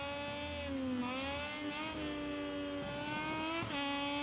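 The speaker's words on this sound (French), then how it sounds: "Oh, le freinage est impressionnant." Racing motorcycle braking hard in the MotoGP 22 video game, engine note dropping and wavering through several downshifts, loud and steady with no talk.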